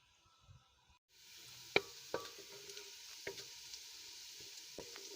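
Half-chopped onions sizzle in a pan over a very low flame, a steady soft hiss starting after a second of quiet, broken by a few sharp spatula clicks against the pan.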